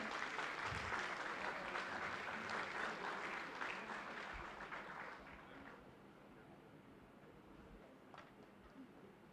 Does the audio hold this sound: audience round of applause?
yes